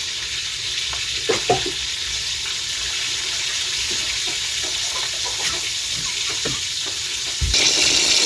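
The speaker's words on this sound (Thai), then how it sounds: "ทอดปลา" Fish fries in hot oil in a pan, a steady close sizzle with occasional small pops that grows slightly louder near the end, with no talking.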